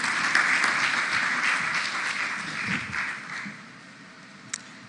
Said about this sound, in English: Let's give George another round of applause.